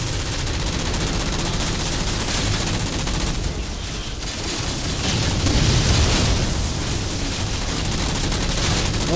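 Dense gunfire and explosions in the Halo 4 video game, shooting at red targets, roar continuously and loudly, with bursts of rapid fire and booming blasts layered over each other.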